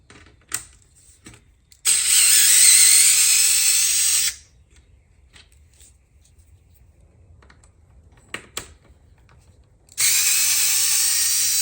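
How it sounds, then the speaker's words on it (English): Electric screwdriver whirring in two bursts, about two seconds each with a long quiet pause between, loud and close, used while installing an LED sequential side mirror marker on a Lexus GX460. "I got my electric screwdriver right here."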